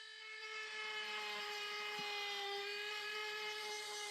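A Dremel rotary power carving tool whines steadily at high speed as it takes light passes on a carved wood spirit nose, a continuous close, even tone with no talk.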